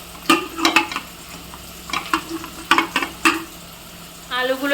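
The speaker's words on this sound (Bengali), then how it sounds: "আলুগুলো একটু লালচে করে ভেজে নেব" Potato pieces frying in oil in a home kitchen, being browned for a vegetarian cauliflower roast, with intermittent stirring clatters and bursts of sizzle over a low steady frying hiss, and a brief watery splash near the end.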